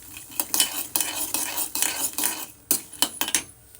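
Peanuts roasting in a pan are stirred with a metal spoon, giving loud, close scraping strokes and clinks in a brisk, uneven rhythm over a faint sizzle.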